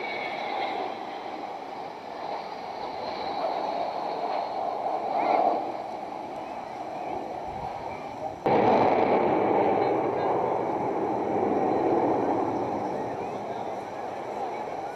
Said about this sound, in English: listen to the thunder of the Olympuses as she throttles away